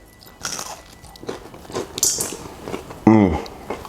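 Crispy fried green plantain tostones bitten and chewed close to the mic, a few sharp crunches ending in one loud bite, with faint talk around them.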